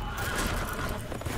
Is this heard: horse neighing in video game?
yes